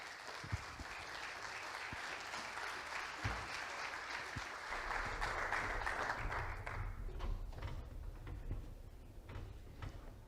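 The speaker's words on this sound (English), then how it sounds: "Everybody give them a round of applause." A conference audience at a Bitcoin event applauds as a team comes on stage, a moderate, fairly distant clapping that swells midway, then thins out, with a few thumps and knocks near the stage.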